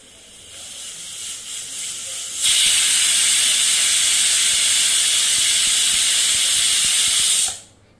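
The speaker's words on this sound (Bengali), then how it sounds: "চারটে সিটি উঠে গেছে।" Pressure cooker on a gas stove releasing steam in a loud, steady, broad hiss that starts abruptly and holds for about five seconds before cutting off. Before it, only a softer background hiss is heard, with no talk.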